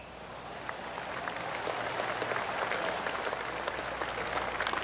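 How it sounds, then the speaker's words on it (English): Polite golf claps rising around a golf course: a steady wash of scattered applause from a spread-out crowd, swelling gently and holding without voices. "I can hear the golf claps around the course"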